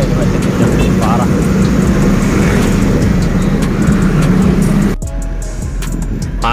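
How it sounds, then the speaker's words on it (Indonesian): Congested city traffic drones loudly and steadily with engine rumble and road noise under a voice, then abruptly drops to a quieter, thinner background near the end. "ini macet Jang, parah."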